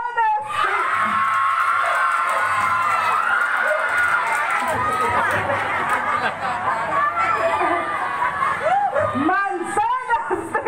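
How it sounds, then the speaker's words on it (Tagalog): A loud crowd on Lanzones Street in the Philippines shouts, cheers and yells together in a sustained roar at a campaign meeting, close and dense, with excited voices rising and fading near the end. "Yung pinakamalakas na sigawan at palakpakan, ha?"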